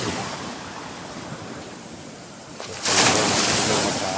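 Calm sea surf washes steadily on the shore as a broad rushing wash, swelling louder near the end.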